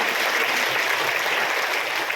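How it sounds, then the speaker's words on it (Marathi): Audience at a temple religious discourse gathering clapping for the hosts, a dense, steady burst of applause sustained throughout. "त्यांच्यासाठी एकदा जोरदार टाळ्या मित्रांनो झाले पाहिजे"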